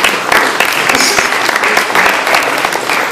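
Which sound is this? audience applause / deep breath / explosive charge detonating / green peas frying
audience applause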